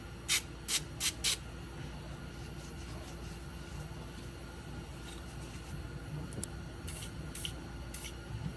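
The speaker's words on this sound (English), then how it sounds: "Alright, we're going to spray some WD-40." A can of WD-40 sprays onto a Milwaukee ratchet in a workshop, giving four short hissing bursts in quick succession at the start and a few fainter spritzes later over steady low background hum.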